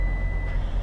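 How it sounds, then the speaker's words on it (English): A single steady electronic beep tone holds through the brief moment, sitting above a low, constant rumbling background. "Ignore that beep."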